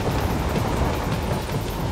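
Steady rumbling run of a train in the video game Metal Gear Rising: Revengeance, a continuous dense roar holding even and loud throughout with no distinct clacks.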